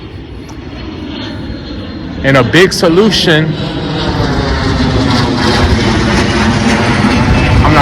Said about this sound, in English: I'm not gonna fight with this noisy airplane.